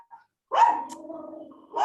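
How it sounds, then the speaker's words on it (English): A Yorkshire terrier lets out a single drawn-out bark or yelp, close and fairly loud, after a tiny faint yip, with the start of another bark at the end, heard indoors during a video call. "the Yorkie is barking again"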